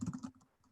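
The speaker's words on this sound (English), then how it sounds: "Hear my keyboard." A quick burst of several clattering keyboard key presses, close and fairly soft, trailing off into lighter taps.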